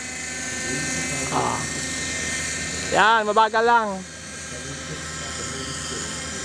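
Remote-control Raptor helicopter flying at a lakeshore, its steady buzzing whine running throughout, with a voice briefly talking over it midway.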